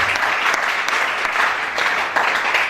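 A congregation at a church service acclaiming God, with bursts of clapping and cheering that swell and fade in waves over nearly three seconds.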